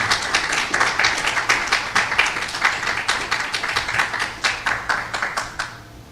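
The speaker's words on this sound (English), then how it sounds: "round of applause for the children of the Lees who will greatly benefit" An audience claps together at a launch event, a dense burst of hand claps that stays loud and even for several seconds before quickly thinning out and stopping.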